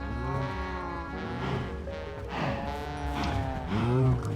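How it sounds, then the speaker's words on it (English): Cartoonish cows moo repeatedly in a video game cow pit, Path of Legends, with low drawn-out calls rising and falling over a busy game soundscape, fairly loud and continuous, with no talking. "Well, someone hurt that cow because it flew back."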